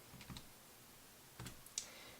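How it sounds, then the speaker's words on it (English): Numbers being typed on a computer keyboard, a few sparse, quiet key clicks spread across a hushed background, with isolated taps rather than a steady run. "now I'm typing it in wrong"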